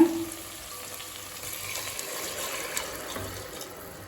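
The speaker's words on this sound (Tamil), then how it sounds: "இப்போ அடுத்தது இதில் தண்ணி சேர்த்துக்கலாங்க" Water being poured into a pressure cooker of potato rice: a steady, soft splashing trickle with faint sizzle-like fizz, close by and unbroken for a few seconds, no voices.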